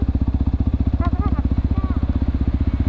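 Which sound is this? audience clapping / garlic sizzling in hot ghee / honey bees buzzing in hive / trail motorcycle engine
trail motorcycle engine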